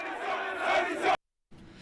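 A crowd of Ivorians cheers at Brazzaville airport to welcome President Alassane Ouattara, a brief loud swell of voices that cuts off abruptly, then resumes more quietly.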